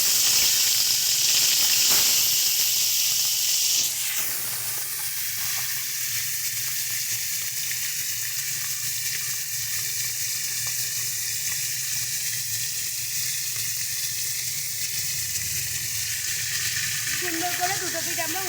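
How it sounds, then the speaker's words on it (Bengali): Marinated pomfret fish frying in hot oil, a loud, continuous close-up sizzle and hiss that holds steady throughout, with a brief clatter near the start and no voices. "তো চলো এবার এক এক করে এগুলোকে আমরা ভেজে নেব।"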